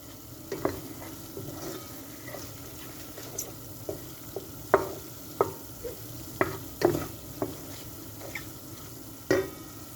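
Chicken for tantuni sizzles in oil in a pan at home, a soft steady frying hiss broken by about a dozen sharp scraping and stirring clicks at irregular intervals.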